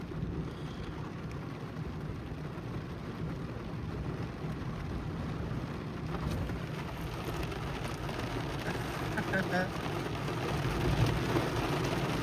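Rain mixed with hail drums on a car, heard from inside the vehicle as a steady, dense patter that swells slightly toward the end, with no one talking.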